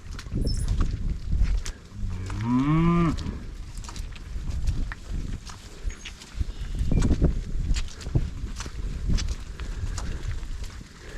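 A freshly weaned calf lets out one drawn-out moo close by, while soft shuffling, hoof and handling noises continue around the herd before and after it.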